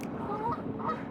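Swans on a winter pond give a few low, nasal honking calls, fairly close and heard alone over soft outdoor ambience.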